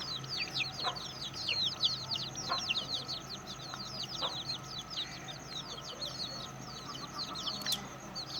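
Aseel chickens on a rooftop coop chirp and cluck in a steady, busy chorus of quick high calls, with a few lower clucks and faint background hiss.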